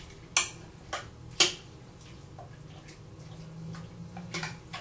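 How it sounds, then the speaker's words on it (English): A spoon stirs rice and beans in a cooking pot, giving a few sharp, sparse clinks against the metal over a quiet kitchen background. "I'm going to stir it around."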